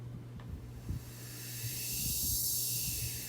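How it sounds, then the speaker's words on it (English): White noise sweep transition effect in a song production, a hiss that rises and swells steadily toward the end over a faint low hum, building into a broad airy whoosh with no voices. "Some white noise."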